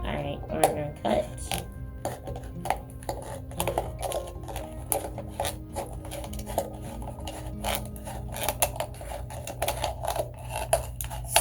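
Repeated sharp snipping and crisp paper cuts from scissors, close by, making hummingbird feeders in a classroom, with rustling and soft voices talking in the background.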